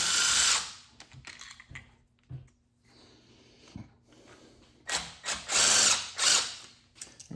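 A hand ratchet clicks in quick bursts while loosening a bolt on a 2013 Ford Taurus SHO engine to free a guide, with close metallic pawl ticking separated by brief pauses.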